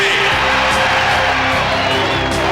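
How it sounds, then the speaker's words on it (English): A large Philadelphia crowd at a Hall of Fame ceremony roars steadily with cheering and whoops, a dense continuous wall of noise throughout. "This is a Philadelphia crowd today."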